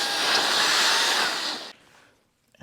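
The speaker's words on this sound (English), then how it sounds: "blow the stuff around a little bit and then vacuum it up" A Saker 3-in-1 cordless vacuum cleaner runs with its brush attachment, a loud high whirring motor that holds steady for over a second and a half, then winds down into near silence before a faint noise returns.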